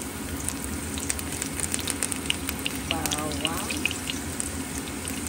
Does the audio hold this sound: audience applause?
no